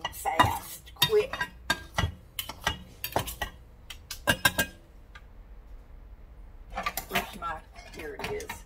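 Spoon stirring a thick blueberry oatmeal bar mixture in a bowl, giving a run of close scraping clinks and knocks that pause briefly midway before resuming.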